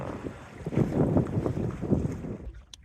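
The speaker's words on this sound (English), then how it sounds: "A bit of splish splash going on." A small West Wight Potter sailboat under sail in just under 10 knots of wind, with water splashing and sloshing against the hull in irregular bursts over steady wind rumble, close and fairly loud, fading near the end.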